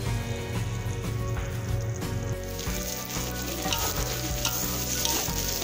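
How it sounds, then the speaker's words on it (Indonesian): Tom yam rice vermicelli frying in a pan while being stirred, with a steady loud sizzle and repeated scraping, clattering stirs throughout, no voices. "Biarkan dulu, kita kacau sekali-sekali aja."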